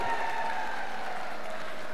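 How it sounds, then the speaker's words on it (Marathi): A large outdoor crowd at a Dahi Handi festival competition applauds four Govinda teams, a faint, steady wash of distant clapping with no distinct individual claps. "पुन्हा एकदा जोरदार टाळ्या या 4 गोविंदा पथकांसाठी."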